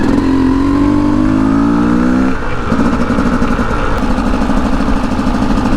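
A Yamaha YZ250 two-stroke enduro motorcycle, street-legal kit fitted, revs hard and loud while being ridden in wheelies on the street, its buzzing note climbing, dropping briefly, then holding steady close by.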